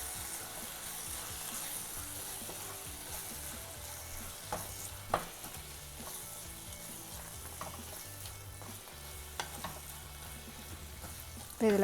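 Masala mixture for paneer masala dosa fries steadily on a street-style dosa griddle while being stirred, a continuous close sizzle broken by a few sharp scraping clicks of the spatula.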